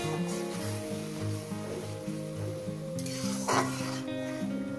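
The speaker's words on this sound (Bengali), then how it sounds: "ততক্ষণ আমি মশলাটাকে কষতে থাকবো" Spice masala with yogurt being sautéed in a pan for chicken curry, a constant close sizzle with soft rubbing stirs and one louder scrape near the end, over a faint background hum, no talking.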